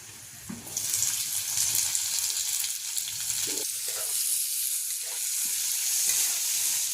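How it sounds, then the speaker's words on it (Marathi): Onion dropped into hot oil with garlic, a sudden rise into a bright steady sizzle with occasional spatula knocks, close and continuous without speech. "कांदा टाकीते"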